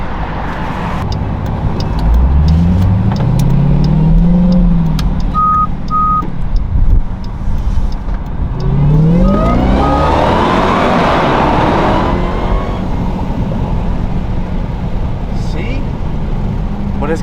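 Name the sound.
2023 Dodge Durango Hellcat engine exhaust before muffler delete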